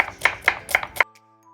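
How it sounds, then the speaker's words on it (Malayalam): A knife slices through onions on a cutting board for a Thalassery chicken chatti biriyani, with five crisp, evenly spaced chops close by, then a quiet pause. "ഉള്ളി ഇതേപോലെ സ്ലൈസ് ആക്കുക"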